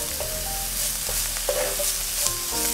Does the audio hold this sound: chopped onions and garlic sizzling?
yes